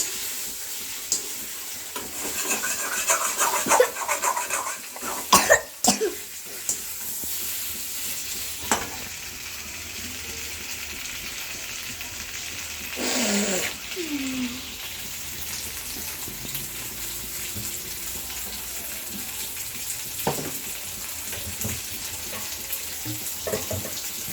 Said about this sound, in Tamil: இந்த எண்ணெயில் போட்டு வதக்கிட்டால் அது கடாயில் பிடிக்காமல் இருக்கும்